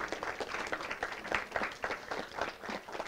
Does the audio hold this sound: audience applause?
yes